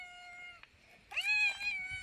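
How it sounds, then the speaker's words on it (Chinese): A stray cat meows outdoors, one short call followed by a longer, louder, rising meow, fairly close and alone without talk. "我就喜欢外边喵喵喵的"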